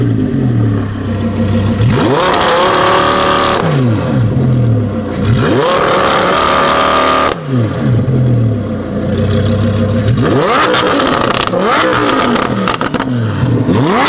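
Lamborghini V10 fitted with an F1-style exhaust, revved outdoors in wind: several loud, sharp revs that climb and fall back, separated by short idle pauses, close to the car.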